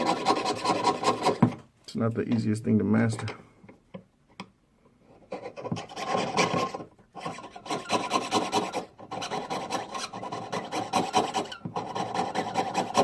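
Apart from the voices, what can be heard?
jeweler's saw blade cutting metal nameplate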